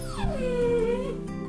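A cartoon dog lets out a single drawn-out whimper after being struck, a close, loud, wavering whine that falls and then rises again over about a second and a half.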